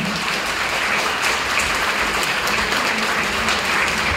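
Loud, steady applause from an audience at a Hindi-language gathering, a dense wash of clapping that fills the whole stretch with no voices over it.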